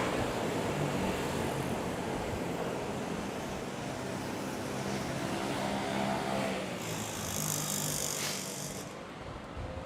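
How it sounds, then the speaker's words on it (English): Passenger airplane taking off at Manila's NAIA airport on a flight to Busan, a steady, broad distant jet roar filling the scene, swelling slightly toward the end, with no voices. "So we have the flight to Busan take off."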